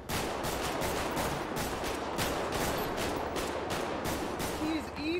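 Rapid, sustained gunfire fills a video game role-play server shootout, with dense overlapping shots crackling loud and close for the whole stretch and a voice faintly underneath.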